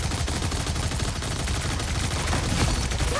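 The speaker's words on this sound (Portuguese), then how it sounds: "O cara tá atirando a esmo ali, velho" Dense, continuous gunfire from a video game match, a player firing at random in rapid bursts that overlap into a steady rattling fusillade, loud and close throughout with no talk.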